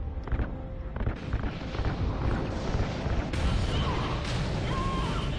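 A massive, sustained roar follows the ignited RCS fuel lines in Call of Duty: Ghosts, a continuous loud rumbling blast with crackling debris and faint tones layered over it, holding steady throughout.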